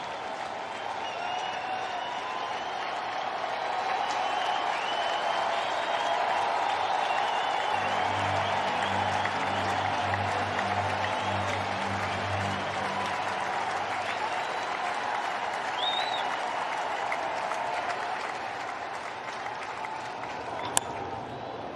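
Baseball stadium crowd during a Brewers–Cardinals game, cheering and applauding as a steady, dense roar that swells briefly mid-way, with no talk over it.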